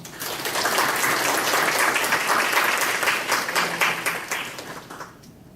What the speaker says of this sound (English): shall we give her another round of applause one more time?